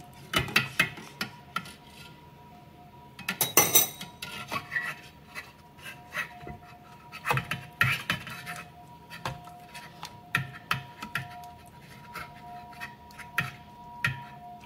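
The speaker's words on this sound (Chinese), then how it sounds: "要把它搅拌得很均匀" A utensil scrapes and rubs against a pot while melting cheese is stirred off the heat for homemade tiramisu, giving irregular raspy strokes with occasional light clinks, close and unaccompanied by talk.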